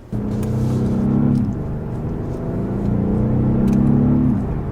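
A 2020 Genesis G80 Sport pulls away from a stop with paddle-shifted gears, its mid-pitched engine climbing steadily, dropping briefly at a quick upshift, then rising again, heard from inside the cabin with no talking.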